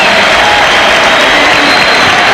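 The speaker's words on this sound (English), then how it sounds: "Derek Harper sits down on the bench to a round of applause as he checks in with 24 points, 8 assists" Arena crowd applauds steadily as Derek Harper sits down on the bench during a 1995 Pacers versus Knicks playoff game, a dense, continuous wash of clapping and cheering.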